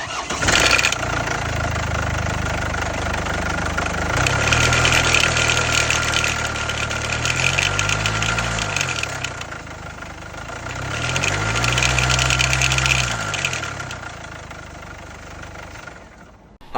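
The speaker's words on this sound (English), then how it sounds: "it was constantly ticking and it was constantly making that timing chain slapping noise." Jaguar XF engine cranking and catching twice, settling into a rough idle with a persistent rattling timing-chain slap and ticking, close and fairly loud with no talk.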